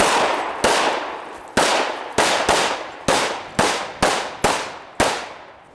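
Rapid pistol shots fired at training targets during defensive pistol drills, about ten sharp loud reports in quick irregular succession, each ringing out with a decaying echo.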